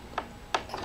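A Bernina sewing machine stitching a French seam, heard close as a few soft mechanical clicks and ticks of the needle mechanism over a low hum, brief and fairly quiet.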